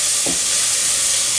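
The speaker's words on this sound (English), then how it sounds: "I'm just going to stir this around. I want all the vegetables to be coated so they cook through." Vegetables tossed and stirred in a hot wok, a loud, dense, steady sizzle with a brief scrape of the utensil near the start.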